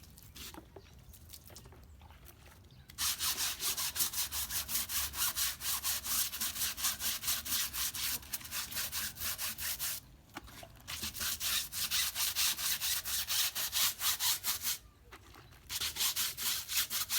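An old car tyre has its inside scrubbed with water while a snail pen is built, making loud, rapid rhythmic rasping strokes in long bursts broken by short pauses.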